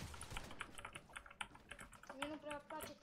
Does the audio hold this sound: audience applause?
no